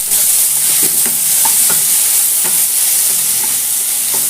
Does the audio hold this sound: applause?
no